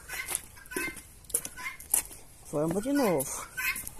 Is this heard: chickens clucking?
yes